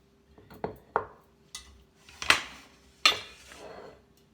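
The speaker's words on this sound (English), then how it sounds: "putting my olives back in the jar." Olives being dropped back into a glass quart jar, a series of separate clinks and knocks of glass and utensil spaced irregularly over a few seconds, close and clear with no talk.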